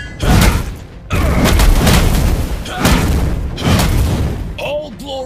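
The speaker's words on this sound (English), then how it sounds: "Your team destroyed a turret." Heavy booming impacts as a turret is destroyed in Mobile Legends, several loud thuds in quick succession with short pauses between them, followed by a game announcer's voice.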